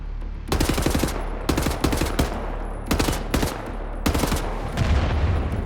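Bursts of rapid automatic gunfire from a film, coming in several loud clustered volleys with brief gaps between them, dense and continuous without any talking.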